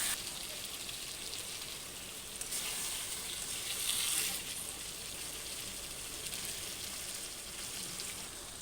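Cashews and raisins dropped into a hot pan of chicken curry sizzle and hiss loudly and evenly, with a brief louder surge partway through, and no talking over it.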